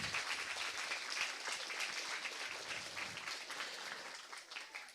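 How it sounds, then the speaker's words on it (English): Steady applause from a youth conference audience, dense clapping holding at an even level for the whole stretch with no pauses, broad and fairly distant as if filling a large hall. "Give him another round of applause."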